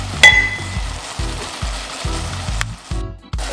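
Eggplant stew sizzles loudly in a pan while a spoon stirs it in steady repeated scrapes, close up, with a sharp clink near the start.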